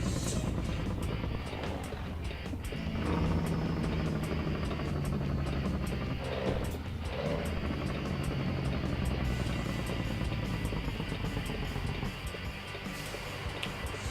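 A Mack MH 600 truck engine runs steadily in American Truck Simulator, a constant, dense diesel drone with rumbling low end that holds at an even level for about fourteen seconds without any obvious gear changes.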